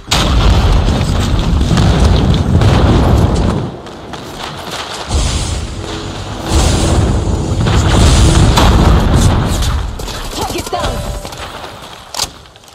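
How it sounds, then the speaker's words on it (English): Airstrike explosions in Call of Duty Mobile during a ranked hardpoint match land as a string of loud, heavy booms and thuds in several bursts, with brief quieter gaps between the blasts. "Friendly airstrike incoming"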